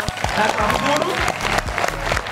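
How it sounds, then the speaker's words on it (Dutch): Applause from a crowd at a film premiere event, clapping mixed with cheering voices and music underneath, loud and continuous throughout. "Geef ze een groot applaus, dames en heren."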